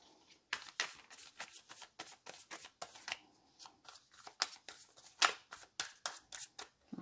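A tarot deck is shuffled by hand in quick, uneven bursts of riffling and flicking cards, close and crisp, running continuously with short gaps between flurries and no talking.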